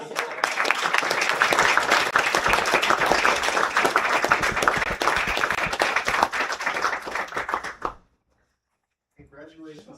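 A large audience at a cyber officer graduation ceremony gives loud, dense, sustained applause for about eight seconds. It stops abruptly, and a voice speaks after a short silence.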